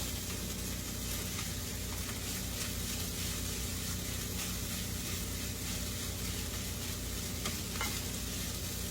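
Fried rice with onions and egg sizzles steadily in a pan rather than a wok, a continuous even frying hiss with faint stirring scrapes and no voices.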